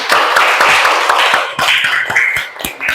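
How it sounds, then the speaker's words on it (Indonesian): Classroom applause from a group of students, a burst of hand claps, dense at first then thinning into scattered individual claps, loud and close. "Kasih tepuk tangan."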